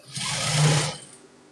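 A sewing machine stitches pleated turban fabric in one short, close burst of rapid whirring that winds down after about a second.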